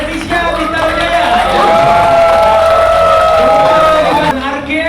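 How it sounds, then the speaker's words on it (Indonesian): An audience cheers and claps after a performance by a group of participants, a loud steady crowd roar with whoops and clapping that fills the whole moment before easing off at the end. "Tepuk tangan untuk teman-teman Redisha Bintang Jaya"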